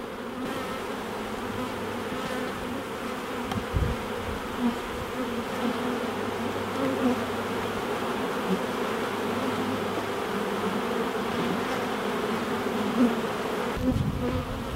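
Honey bees swarm around a hive while a nucleus colony is installed at the start of a new season. A dense, continuous buzz of many insects carries close and steady throughout.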